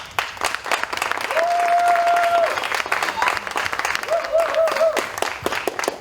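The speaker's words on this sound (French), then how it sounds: "comment les gens applaudissent" Loud, dense applause from a concert audience fills the hall without pause, cheering for a live show, with whistle-like tones rising briefly above it.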